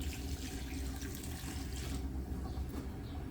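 Water pours steadily into a large pot of Guyanese curry with a 13-pound duck, a continuous close splashing rush that holds throughout and softens slightly near the end.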